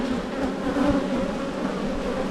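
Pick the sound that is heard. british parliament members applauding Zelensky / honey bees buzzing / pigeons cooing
honey bees buzzing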